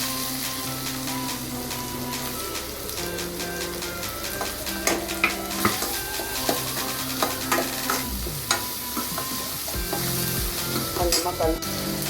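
Onions and curry leaves sautéing in hot oil for a tomato gravy sizzle steadily up close, with repeated metallic taps and scrapes of a spoon stirring the pan and a few louder knocks toward the end.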